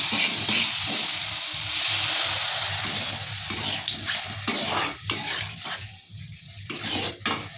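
Water goes into a pan of spiced potatoes sautéed with garam masala, setting off a strong, steady sizzle with scraping stirs, then the hiss breaks up into uneven bubbling bursts near the end.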